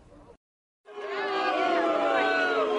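A loud crowd of protesters at an Ohio rally against Senate Bill 5 and Governor John Kasich swells in after a brief silence, shouting and chanting together in a sustained roar that holds steady.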